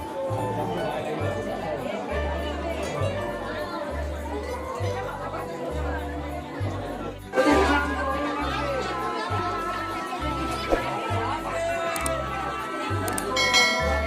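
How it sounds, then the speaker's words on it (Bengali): Crowd murmuring inside a busy Shiva temple as devotees pour water over a white marble idol, with steady chatter, faint clinks and a bell-like ring under a continuous low rhythmic thumping. "তো দেখে নাও মন্দিরের মধ্যে কেমনভাবে ভিড় হচ্ছে, সবাই জল ঢালছে"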